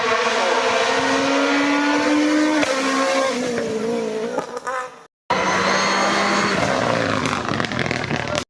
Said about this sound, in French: Ça passe très fort pour Wilfried Rodolphe.